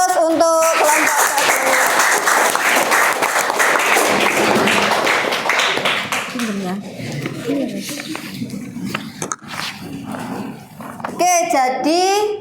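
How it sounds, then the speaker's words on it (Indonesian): Applause for a student group after their morning classroom presentation, a loud burst of clapping and cheering in the opening seconds, then fading as talk and voices take over. "Aplaus untuk kelompok"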